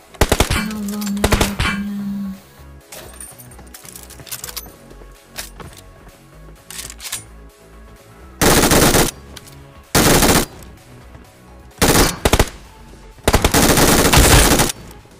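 Gunfire from a scoped weapon in the mobile game PUBG Mobile, loud close bursts of rapid automatic shots in several sustained strings separated by short pauses, with a few single clicks and shots between.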